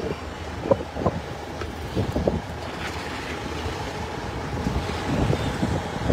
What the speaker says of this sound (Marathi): ठाण्यामध्ये सोसाट्याचा वारा सुरू झालाय